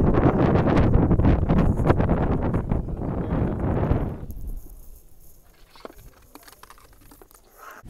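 Wind buffets the microphone on the 1,800-metre summit of Penyagolosa, roaring loudly for about four seconds before dropping to a faint, gusty hush.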